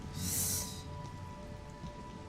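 Steady heavy rain from a storm in the video game Resident Evil Requiem, a continuous dense hiss at moderate level with a brief brighter swell near the start and no talking.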